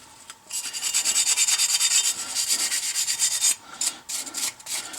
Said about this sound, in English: just rubs right off. And I'm really not brushing it very hard or anything like that.